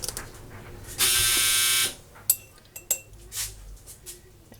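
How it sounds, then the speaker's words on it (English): A clothes dryer beeps in one loud, sustained electronic tone lasting about a second, followed by a few short clicks and knocks nearby. "I am going to open and close that dryer door so it doesn't keep beeping"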